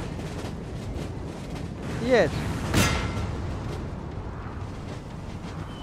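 Cannon artillery fires in Napoleon Total War during an 1833 Carlist War battle at Huesca. There are two booming shots about half a second apart, under a constant battlefield rumble, and someone speaks briefly.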